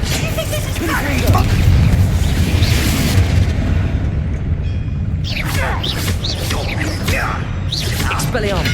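A Confringo fire-blast spell explodes during combat in the video game Hogwarts Legacy, with heavy rumbling booms and a crackling burst, loud and close, while voices talk over parts of the fight.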